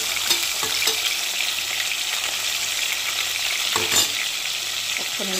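Pieces of fish fry in hot oil in a pan for a fish and vegetable curry, a close, steady sizzle with occasional stirring scrapes and crackles and no talking.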